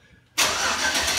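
A 1938 Buick Y-Job concept car cranks and fires up, its engine catching abruptly after a quiet moment and settling into a loud, steady broadband roar close by.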